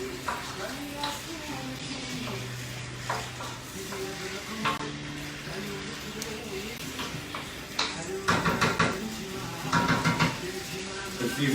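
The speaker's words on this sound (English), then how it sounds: "So tomatoes in, we're going to mix it a little." Tomatoes sizzle and fry in a hot pan while a utensil stirs and scrapes them in bursts against the metal. A person talks throughout, and the clatter grows busier near the end.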